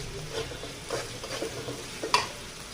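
Garlic and ground spices, cumin, turmeric and chili powder, fry in a pan as a spatula stirs them, soft sizzling broken by a few scraping strokes and one sharp clink near the end, close and fairly quiet.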